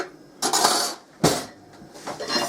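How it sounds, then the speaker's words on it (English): Knife cutting coconut into bite-sized pieces on a board: three separate crisp chopping and scraping strokes, close and fairly loud, with quiet pauses between them. "I just cut the coconut into bite-sized pieces"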